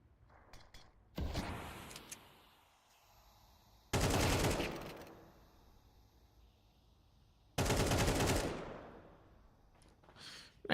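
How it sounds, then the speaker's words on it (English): Automatic rifle fire bursts out in an online Counter-Strike esports match, three loud sustained sprays separated by pauses with softer scattered shots and clicks between them, no voices over the shooting. "Nice shooting from Kenzie on the edge of the smoke."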